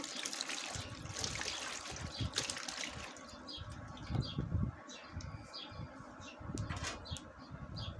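Water pours and trickles steadily into a vessel for washing okra in a home kitchen, with soft splashes and intermittent drips throughout, moderately close and fairly quiet.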